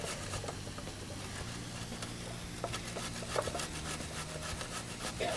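Zucchini being shredded on the large holes of a box grater, giving a steady scraping rasp of repeated strokes, close and moderately loud with no talking.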